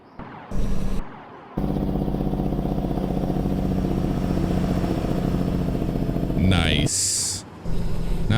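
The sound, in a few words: Jake brake on a truck in American Truck Simulator video game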